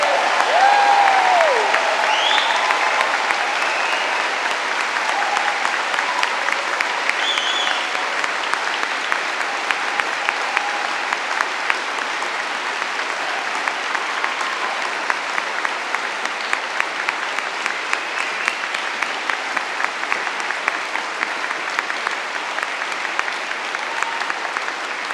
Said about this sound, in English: we'll give you one last huge round of applause.